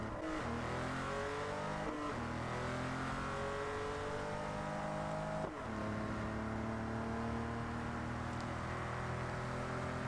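A widebody Porsche 911 Carrera in a video game drives with a steady, loud engine drone whose pitch climbs through gears and briefly drops at each shift, continuous and alone.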